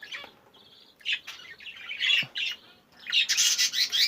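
Several birds squawk and chirp close by in a lively chorus at a bird breeding house, harsh calls mixed with sharp high tweets, bursts coming and going.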